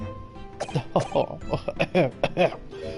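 A few short, harsh coughs break up close-range talking, with a voice speaking in between the bursts; the person coughing is bleeding from the mouth.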